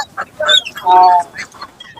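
Chickens and roosters, fancy breeds including black roosters, at a busy animal market in Tirupur, cluck and call in short bursts close by, with one louder drawn-out crow-like squawk in the middle.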